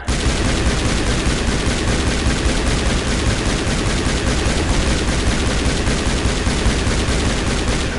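Sustained rapid gunfire from weapons in the Mass Effect 1 Legendary Edition game on Virmire, loud and continuous automatic bursts filling the whole stretch with no talk.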